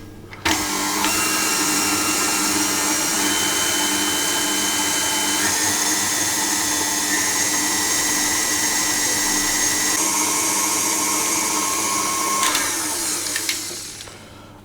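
An electric mixer whirs steadily through lemon crinkle cookie dough, a loud, sustained motor drone that runs unbroken for most of the stretch before cutting off near the end.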